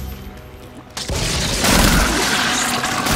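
Weapon fire in the video game Warframe hits an alien hive, a sudden booming burst after a quieter lead-in, followed by a sustained dense crackle of blasts and gunfire.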